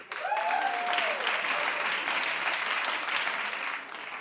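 Steady, full applause from a studio audience, a dense, even wash of many hands clapping for about four seconds, with a brief voice near the start.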